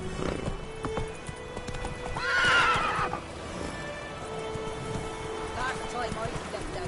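Geralt's horse Roach in The Witcher 3 whinnies loudly in the middle of steady hoof clopping, with a soft rain-like patter in the background and a second fainter neigh near the end.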